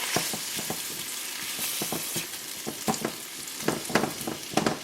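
Spinach cooks down with a splash of stock, salt and pepper in a pan, a soft steady sizzle under repeated close spoon scrapes and taps as it is stirred, with no talking.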